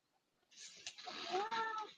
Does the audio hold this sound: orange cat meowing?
yes